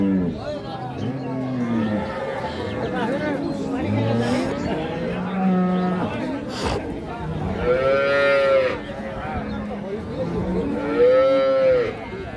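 A two-toothed Holstein Friesian cow with her female calf at a livestock market moos several times, long drawn-out calls rising over a bustle of people talking nearby.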